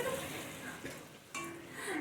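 Chhatu kochuri frying in hot oil, a steady close sizzle with faint stirring scrapes and a brief voice in the background.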